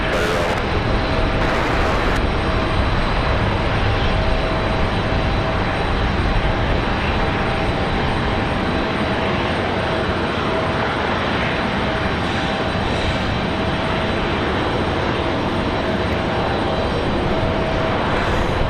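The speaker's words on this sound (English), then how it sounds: "All right, Delta going to be cleared for takeoff here while we await the United arrival." A Delta airliner, identified as a 737-9, takes off at Raleigh-Durham International Airport on a windy day, its jet engines roaring loud and steady for the whole stretch as one broadband wall of sound with a faint whine above it.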